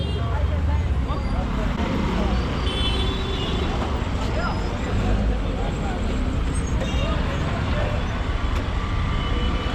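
Dense, clamorous street traffic in India surrounds a pedestrian, with continuous engine rumble, passing vehicles and scattered horns close by, mixed with background crowd chatter and voices.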